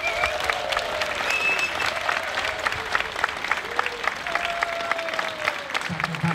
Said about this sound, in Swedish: vi ska ge en extra stor applåd och det där extra lilla jublet